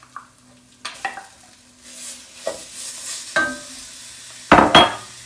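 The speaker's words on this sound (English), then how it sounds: "you can hear it sizzling because the pot is hot, but the flame is off" Pumpkin puree and vegetables stirred in a hot pot with the flame off, soft sizzling under scattered scrapes and knocks of a utensil against the pot, close and unhurried with no speech.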